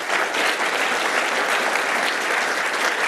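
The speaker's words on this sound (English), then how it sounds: "Can everyone give him another round of applause?" A full round of applause from a conference audience after a technical talk, dense and steady clapping that holds at an even, fairly loud level with no speech over it.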